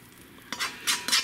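Ground hamburger meat and its grease being scraped out into a hot pan for taco mac and cheese, a few short bursts of scraping and sizzling close by, with quieter stretches between.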